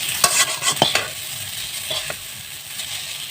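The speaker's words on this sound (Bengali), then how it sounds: "দিন লবণটা দিয়ে একটু নেড়ে চেড়ে নিতে হবে" Egg chowmein noodles tossed and stirred in a hot pan after salting, a cluster of quick scraping spatula strokes up front, then a lighter sizzle with occasional clinks.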